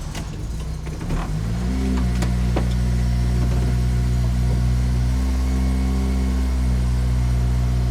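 A 2008 Honda Civic Si (FA5) race car project with its engine cranking briefly, then catching on a cold start and settling into a loud, steady idle hum that continues to the end.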